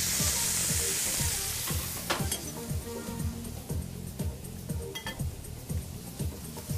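Steak dropping into a hot pan, a loud hiss that flares at first and settles into steady close sizzling, with a rhythmic series of clinks and scrapes from a utensil against the pan.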